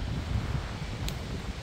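Steady outdoor wind buffeting the microphone, a low continuous rumble with a faint brief tick partway through.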